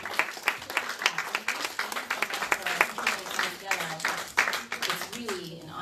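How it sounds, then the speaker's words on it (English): Audience at an evening film screening and discussion clapping for the event organizers, dense individual claps forming a steady round of applause, with a voice speaking over it near the end. "give a round of applause to our organizers"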